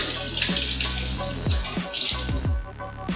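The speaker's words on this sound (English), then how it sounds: "And then rinse it off." Tap water runs steadily over a freshly made firearm muzzle device being rinsed at a sink, a continuous close splashing stream with a few brief clinks and shifts as the part is moved, and no talking.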